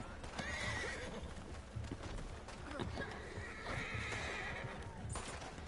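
A horse in Red Dead Online whinnies in shrill, drawn-out neighs, twice at length, over a steady clip-clop of hooves and background game noise.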